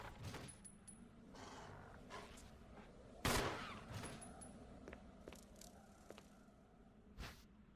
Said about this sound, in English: Bang, straight in the head.